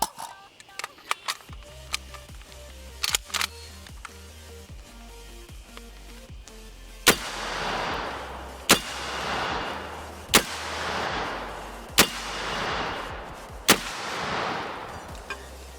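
A 12 gauge magazine-fed shotgun fired at an outdoor range, with several sharp, loud blasts evenly spaced and each followed by a rolling echo, plus quieter clicks and handling sounds early on.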